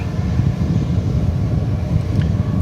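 Steady, loud low roar of a jet airplane taking off from runway 18 left at Dallas Fort Worth airport at night, continuous rumble with no voices.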